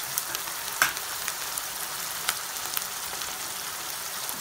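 Onion and cashew paste fries in hot oil for a village-style chicken fry, a constant crackling sizzle with scattered sharp pops and spatters, fairly close and without any talking.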